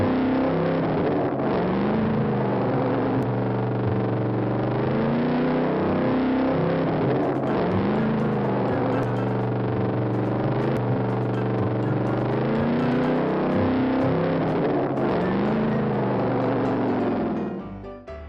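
A homemade fan-powered motorbike being ridden: a continuous buzzing motor drone with a gently wavering pitch that holds steady and loud throughout, then cuts off at the end.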